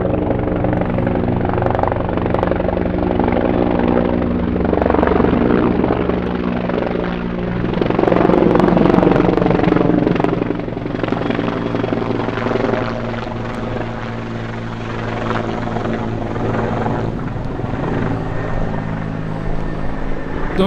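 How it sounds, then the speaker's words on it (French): A helicopter passes overhead near a road leading to the Tibi dam and reservoir in Alicante, Spain, its rotor thumping loudly and steadily for about twenty seconds, swelling midway and easing slightly toward the end. "il y a un hélico."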